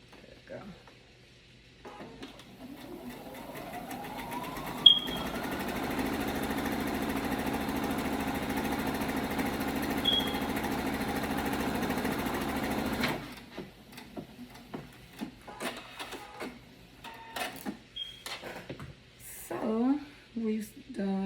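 A sewing machine stitches the side seams of a sleeveless shirt, a steady whirring run of about ten seconds that then stops, followed by scattered handling clicks and rustles.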